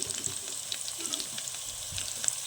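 Spice powders heat in oil for pineapple pickle, giving a quiet, steady sizzle with faint crackles and light scraping of stirring close by.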